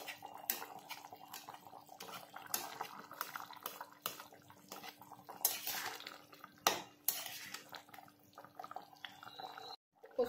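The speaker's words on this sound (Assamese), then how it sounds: "তাৰপিছত এবাৰ লৰাই দিছোঁ চাওক তৰকাৰীখিনি ধুনীয়াকৈ উতলি আহিছে" A ladle stirs fish curry with broken taro pieces in a metal pot, giving intermittent clinks and scrapes with brief watery bubbling, close and fairly quiet, with no talking.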